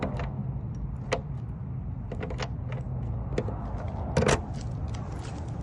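Keys jangle in sharp, scattered bursts as they are tried in the loose locks of truck compartments, with metallic clicks and rattles close by and a low background hum.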